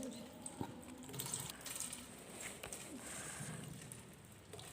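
Water poured from above onto a small model turbine at a student science display, a quiet steady splashing trickle with a few louder knocks, close by.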